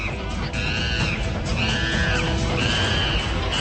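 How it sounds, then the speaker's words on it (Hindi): Langurs in the capital give repeated rising shrieks and calls, several overlapping cries in steady succession over a loud, dense background noise. "राजधानी के 12 इलाकों में लंगूर चीख रहे हैं"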